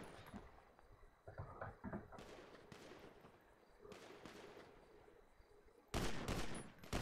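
Bursts of rapid gunfire from a Rust PvP crew fight, several volleys of shots and fusillades, some distant and one loud close burst near the end.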